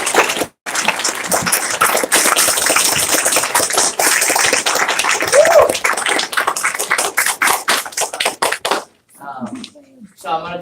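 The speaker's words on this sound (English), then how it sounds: "So go ahead and give them one round of applause." Applause at a banquet crackles along for about nine seconds, with a brief gap near the start and individual claps growing sparser toward the end, followed by a voice.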